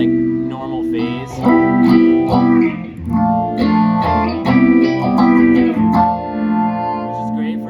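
Electric guitar run through a phaser pedal with a color switch giving two phase tones, played as a continuous strummed and picked passage with sweeping, swirling tone, loud and close with no talk.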